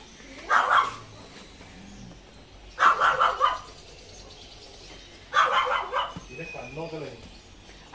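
A Pomeranian barking at a pet market in Abu Dhabi: three short bursts of yaps a couple of seconds apart, close and fairly loud, with people talking nearby.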